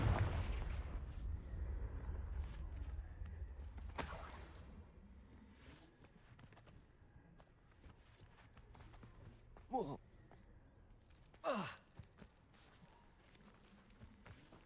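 Confringo blasting spell explosions in Hogwarts Legacy, a loud booming blast at the start with a rumbling tail, then a sharp burst around four seconds and two more crackling impacts later, amid game ambience and footsteps.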